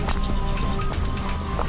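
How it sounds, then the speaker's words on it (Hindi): Steady heavy rain during a storm over a village patters densely on surfaces, a constant close hiss with scattered drop impacts and no talking. "गांव में बारिश के साथ साथ तूफान भी आया हुआ था।"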